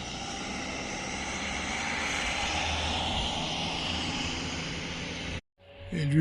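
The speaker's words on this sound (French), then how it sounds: "Un avion qui survole le lac de Serponçon." A plane passes high over Lake Serre-Ponçon in the Hautes-Alpes, its broad, steady engine drone holding for several seconds before cutting off abruptly near the end.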